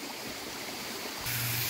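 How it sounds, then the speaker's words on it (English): A waterfall pours out of a karst spring inside a sinkhole, a steady broad rushing of water that grows a little fuller and louder partway through, with no voices. "The water flows out of that spring and becomes that waterfall."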